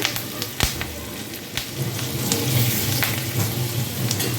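Chopped garlic frying in hot oil in a home kitchen, a steady close sizzle with a few sharper pops and crackles, no voices.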